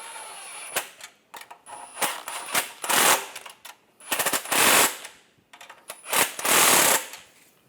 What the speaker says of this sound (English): Using a 13mm socket, we'll tighten these up.